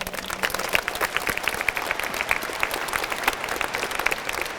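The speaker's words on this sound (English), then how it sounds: "so clap it up for yourselves one more time" A crowd of graduates at a 2023 graduation ceremony claps steadily, with dense overlapping applause and a few sharper individual claps filling the hall.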